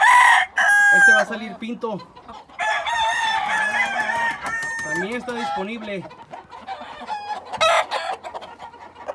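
Several roosters crow in overlapping calls, with clucking between them, while someone talks over the birds.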